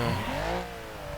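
An underpowered rear-mounted French car engine revs in BeamNG.drive, a steady mid-level drone that rises slightly in pitch and then settles, with no talk over it.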